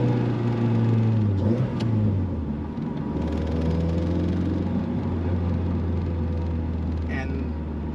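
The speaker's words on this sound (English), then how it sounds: "Go to a higher RPM, then let go the gas." Honda Civic with a swapped G23 VTEC engine, heard from inside the car as it is driven, rising to a higher RPM and then easing off the gas into a steady low engine drone.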